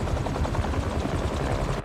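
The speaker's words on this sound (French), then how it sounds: "Des pales d'hélicoptère, c'est ça." Fast, thumping helicopter rotor blades in Marvel's Spider-Man 2 chop rhythmically, loud and close, with a dense whirring roar throughout.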